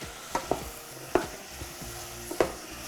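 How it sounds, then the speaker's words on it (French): Celery sautés with basil in a pan, a soft steady sizzle broken by a handful of sharp scraping stirs from a utensil against the pan, close and fairly loud, with no talk. "Je vais juste les faire revenir un petit peu avant de rajouter le bouillon."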